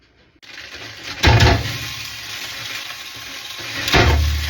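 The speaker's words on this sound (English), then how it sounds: "We are gonna start out by browning our hamburger." Two pounds of ground hamburger browning in a pan for weeknight lasagna, a sizzle that starts abruptly and swells in two loud bursts as the meat is stirred or moved, with no talking.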